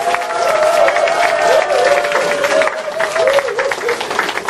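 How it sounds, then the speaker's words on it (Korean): Dense applause and light cheering from a crowd at a campaign office opening, loud and continuous throughout, with a voice briefly heard over it. "다시 한번 여러분 뜨거운 힘찬 응원의 박수를 부탁드리겠습니다."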